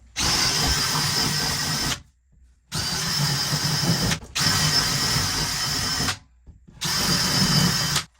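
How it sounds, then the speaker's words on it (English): A handheld power drill bores holes during a closet installation, running in three long bursts of about two seconds each, separated by short pauses. The whine is loud and close, with no talk over it. "now we got to drill our holes"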